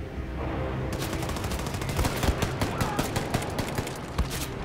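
Rapid bursts of gunfire from a small gun in the video game Wolfenstein 2: The New Colossus, sharp shots cracking in a dense, uneven volley over a continuous loud game backdrop.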